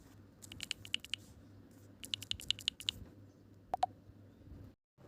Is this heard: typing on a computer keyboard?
yes